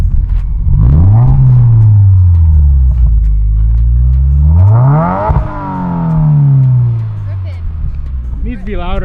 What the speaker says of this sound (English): Let me get an exhaust note.